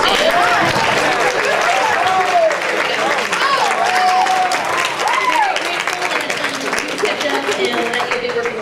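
Audience at a high school band awards ceremony breaking into loud, sustained applause, a dense wash of clapping from a large crowd with voices faintly audible underneath.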